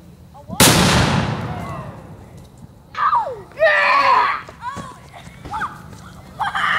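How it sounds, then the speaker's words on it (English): A quarter stick explosive detonates outdoors with one sudden loud blast and a long decaying roar, followed by excited voices and shouting. "What is it? Quarter stick."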